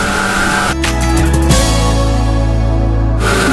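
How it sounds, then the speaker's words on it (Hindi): A domestic flour mill grinds wheat steadily with a loud, continuous mechanical hum and whine, a brief clatter of grain near the start, no voices. "गेहूं डालते ही ये चक्की आपकी ऑटोमेटिक चालू हो गई है।"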